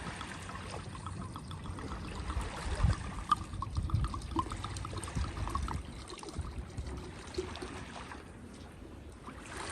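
A full bottle of Italian rosé berry wine glugs and splashes as it is poured into a pitcher of raspberry sangria, a steady liquid trickle with small bubbling bursts.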